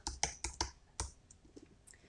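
Several crisp key clicks of typing on a computer keyboard while entering a word into a ScanNCut cutting machine's text screen, a quick burst of five taps followed by fainter scattered clicks, close and alone.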